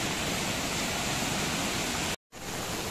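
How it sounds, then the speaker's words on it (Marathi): Flooded river water pouring over a causeway in monsoon rain, a dense steady roar of rushing water heard close and loud, broken by one very short dropout. "हा प्रवाह वाढलेला आहे आणि पर्याच्या वरून पाणी चाललेलं आहे"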